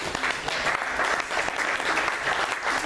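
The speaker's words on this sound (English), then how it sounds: "You all need to give yourselves a round of applause for just being here." An audience applauds steadily, a dense wash of hand claps that holds at an even level throughout.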